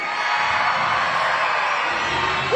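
A large crowd at the 2022 Bassmaster Classic weigh-in at Lake Hartwell cheering and whooping loudly, a continuous wall of roaring voices.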